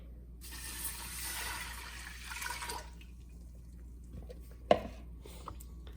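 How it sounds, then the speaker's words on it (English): A little over three cups of water are poured into a pot in a home kitchen, giving a soft splashing, filling rush for a couple of seconds, followed by quiet and a sharp clunk. "I have just a little over 3 cups of water. Let me pour that in there."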